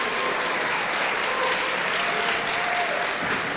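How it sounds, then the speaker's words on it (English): Applause from a seated audience at a guide dog graduation ceremony, loud dense clapping sustained evenly throughout with no talk over it. "let's give one more big round of applause for Class 421"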